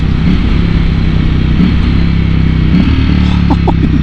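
A motorcycle engine roars loud and close while the rider rolls through a downshift, with steady engine drone and a few quick revving blips near the end.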